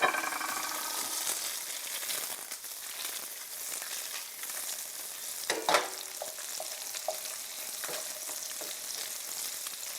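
Salmon slider patties, seven of them, fry on a stovetop in a steady crackling sizzle, with a brief louder clatter and a few small pops midway.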